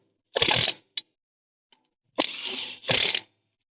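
Ratchet tightening bolts on an aluminum chassis: two quick bursts of clicking near the start, a pause, then two longer runs of close, bright ratcheting.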